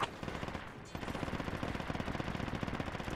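Rapid, sustained machine gun fire rattles in Project Reality, a dense stream of fairly distant bursts running through the whole few seconds with no talk over it.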